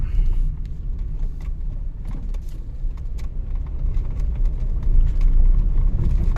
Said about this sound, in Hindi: गाड़ी आ गई है।